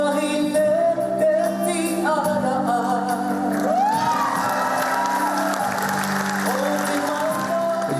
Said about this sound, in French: Des applaudissements nourris à chaque début de chanson.